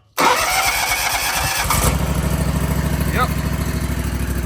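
A Kawasaki FX730V engine on a Bad Boy Revolt mower, fitted with a new starter, cranks briefly and catches, then settles into a loud, steady idle close by; someone speaks a single word over it.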